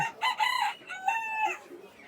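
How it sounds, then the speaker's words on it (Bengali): Chickens at Sutrapur market in Bangladesh cluck and crow in short, loud, close bursts, one call after another with little room between them. "বিভিন্ন ধরনের মুরগি"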